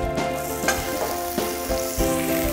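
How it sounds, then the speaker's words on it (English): Garlic sautéing in a ceramic cooking pot, a steady close sizzle and frying hiss with a few soft stirring scrapes, no voices. "what you need to do now is to saute one by one until it's over."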